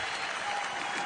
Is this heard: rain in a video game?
no